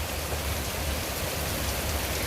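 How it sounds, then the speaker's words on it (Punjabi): Heavy rain pounds on a car roof and body, heard from inside as a dense, loud, unbroken roar of drops with no voices. "ਮੀਂਹ ਕਿੰਨਾ ਜ਼ੋਰ ਨਾਲ ਪੈ ਰਿਹਾ ਤੇ ਆਵਾਜ਼ਾਂ ਸੁਖਵਾ ਸੁਣੋ ਮੀਂਹ ਦੀ"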